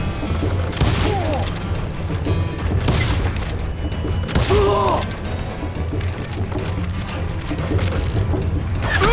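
Gunfire in Call of Juarez Gunslinger cracks in loud, repeated shots and booming bursts across a chaotic Western shootout, with mechanical clatter and shouted voices in between.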